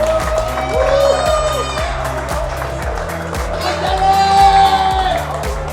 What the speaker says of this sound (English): A big round of applause for Fat Boys.